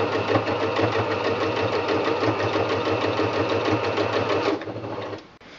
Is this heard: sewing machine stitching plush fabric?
yes